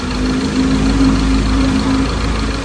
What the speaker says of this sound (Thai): เสียงเครื่องยนต์เงียบลงนะ เมื่อวานดังกว่านี้นะ